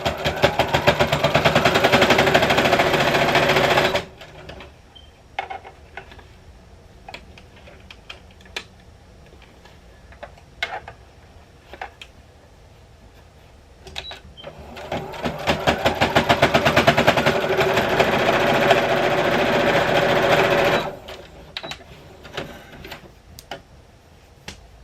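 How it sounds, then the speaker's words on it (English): A sewing machine top stitches a face mask hem with a straight stitch in two loud, rapid runs of several seconds each, separated by quieter clicks and fabric handling. "you're going to top stitch it with a straight stitch"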